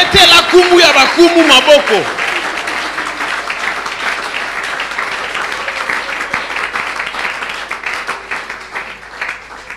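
A church congregation applauding, loud and sustained clapping from a crowd that fills the room, with voices and an exclamation over it at the start.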